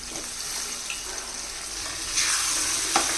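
Potatoes fry with softened tomatoes in a pan, a continuous close sizzle that swells louder partway through, with a light scrape near the end.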